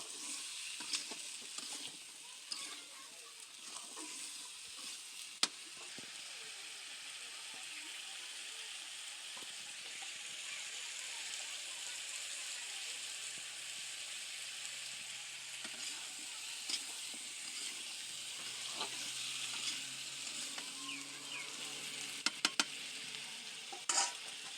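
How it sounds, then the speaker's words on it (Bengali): Washed vegetables cooking as a curry in a pan give a soft, continuous sizzle while being stirred, with faint scrapes and occasional sharp clicks of the utensil, quiet and without speech. "এটা এখন এইভাবে ভালো করে নেড়ে চেড়ে নিব।"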